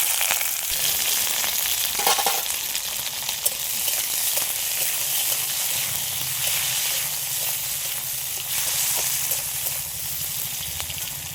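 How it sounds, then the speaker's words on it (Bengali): Cardamom, cloves, cinnamon and capsicum sizzle in hot oil in a kadai, a steady close crackling hiss that runs the whole time with light stirring scrapes and no talking. "কড়ার মধ্যে আবারও তেল দিয়েছি তেলটা গরম হয়ে গেছে ওর মধ্যে দিয়ে দিচ্ছি ফোড়নে এলাচ লবঙ্গ আর দারচিনি একই সাথে দিয়ে দিচ্ছি ক্যাপসিকাম"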